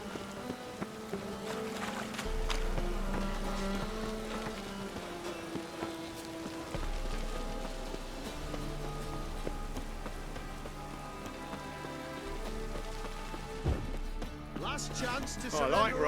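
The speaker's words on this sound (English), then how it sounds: "I like rain. Keeps the roads indoors." Steady rain falls in The Witcher 3: Wild Hunt, a continuous soft hiss under low tonal music and scattered game sounds, holding at an even level throughout.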